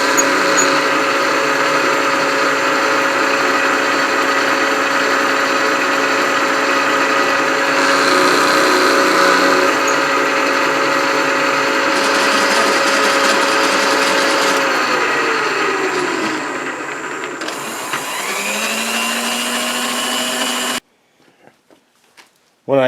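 A machine tool makes the final seven-thousandths cut with a cutting insert in metal, a loud, steady tonal whine and hum that shifts pitch near the end and then drops into near silence as the spindle winds down.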